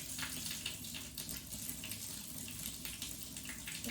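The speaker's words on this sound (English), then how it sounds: "turn the tap on." Tap turned on with water running in a steady, broadband rush that continues evenly throughout, close and fairly soft, with no voices.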